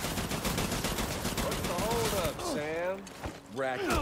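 Rapid automatic gunfire in Death Stranding crackles in dense bursts while a voice speaks over it, the shots fading briefly before resuming.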